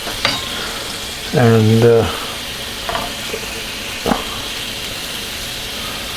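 Shrimp fry and brown in a pan with a continuous close sizzle, while someone speaks briefly a couple of times over it.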